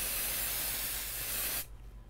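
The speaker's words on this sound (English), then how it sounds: "we're going to spray some temporary adhesive spray on our backing" Temporary adhesive spray hissing from an aerosol can onto embroidery backing, one continuous close burst lasting about a second and a half before cutting off abruptly.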